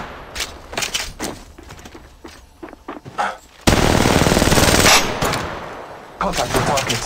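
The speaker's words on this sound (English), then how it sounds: "Shots fired at me." Gunfire in the video game Apex Legends: rapid automatic bursts ring out loud and close, one sustained volley in the middle and another toward the end, mixed with in-game voice callouts.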